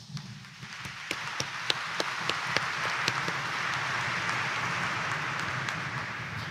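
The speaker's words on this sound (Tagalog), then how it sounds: "pumalakpak ng malakas." A church congregation at a Quiapo mass applauds loudly, a dense steady wash of clapping that swells and holds, with a few sharper individual claps standing out near the start and no talk over it.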